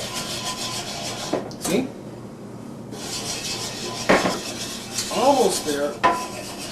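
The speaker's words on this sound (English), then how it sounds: "And to make your roux, you stir it up until it browns up a little bit." A spoon scrapes and rubs through a Crisco and flour roux in a pan, giving intermittent scraping strokes with a few sharper clinks against the pan, while a person speaks briefly.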